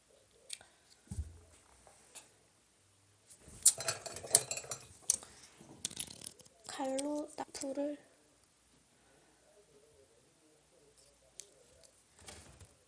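Slime mixed with an added glue stick gives soft, intermittent clinks and sticky squelches from a container and utensil, heard in short bursts while a person talks.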